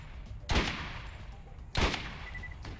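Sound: gunfire in the video game Borderlands

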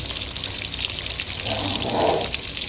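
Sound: fish frying in a pan

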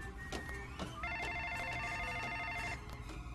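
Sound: telephone ringing in Lego Jurassic World video game

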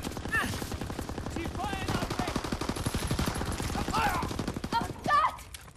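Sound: gunfire from the video game Call of Duty WWII

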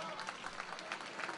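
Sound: applause at a wedding celebration

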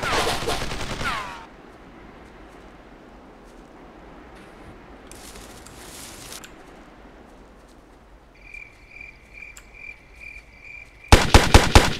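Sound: gunfire in a video game

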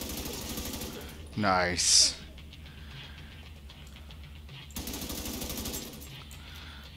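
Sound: gunfire from the video game The Division 2

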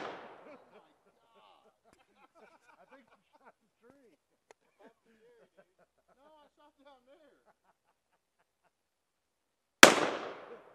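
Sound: gunshot from a Smith & Wesson 500 revolver

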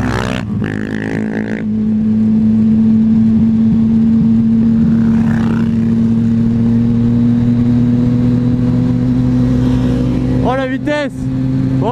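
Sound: supermoto motorcycle engine while riding on the beach

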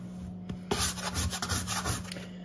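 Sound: bread scraper scraping dough bits off the worktop

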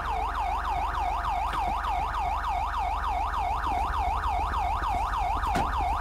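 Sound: police car siren in GTA 5 video game

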